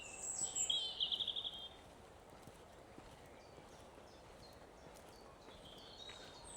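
Blackbirds and chiffchaffs sing in an English wood, with a clear burst of song near the start and fainter calls carrying on in the distance over a quiet, breezy background.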